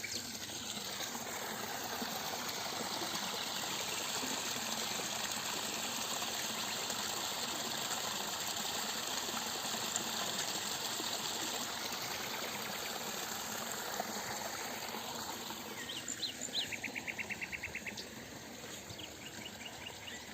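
A stream in the countryside at Karşıköy, Taşköprü, Kastamonu flows with a steady, even rushing hiss, moderately faint, with insects buzzing and a few clicking chirps late on, and no voices.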